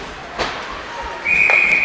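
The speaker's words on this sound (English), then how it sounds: "We're going to get a whistle." A referee's whistle sounds at a youth ice hockey game, a sharp sustained blast arriving late over a murmuring rink crowd.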